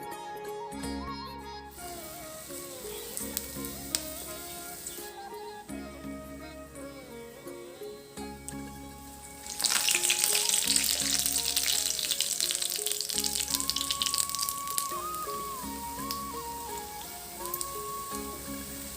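Curry leaf bajji frying in hot oil, a bubbling sizzle that jumps louder partway through and continues steadily over background music.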